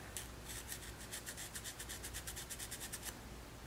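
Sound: scrubbing chainsaw part with Scotch-Brite pad

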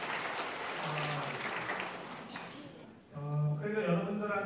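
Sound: audience applause

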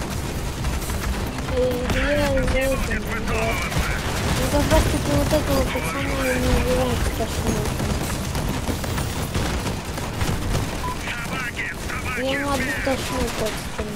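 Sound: gunfire in the video game Crossout

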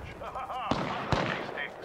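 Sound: gunshots in the video game Apex Legends

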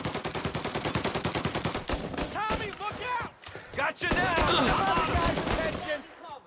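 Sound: gunfire in the video game Mafia Definitive Edition

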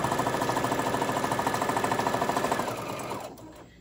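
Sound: sewing machine sewing a seam on a scrunchie

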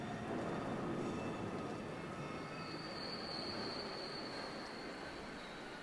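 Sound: train passing in video game Rocket League

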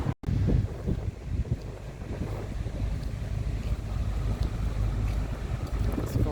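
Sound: wind blowing

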